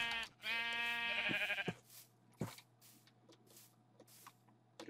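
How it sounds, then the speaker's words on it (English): A sheep in the video game Minecraft gives a long, wavering bleat up close, then a second shorter one, followed by a few faint clicks and shuffles in near-silence. "You're free now, Mr. Sheep."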